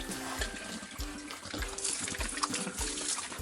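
Water poured into a pig pen, splashing and gurgling in uneven bursts as it lands, close by, with a faint steady hum running underneath.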